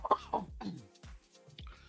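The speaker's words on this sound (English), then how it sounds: "Sorry, I had to cough." A single sharp cough followed by a couple of smaller throat-clearing coughs, close and dry, with short pauses between them.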